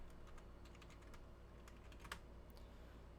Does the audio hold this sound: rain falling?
no